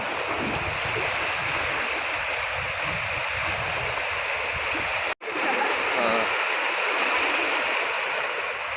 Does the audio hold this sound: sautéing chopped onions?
no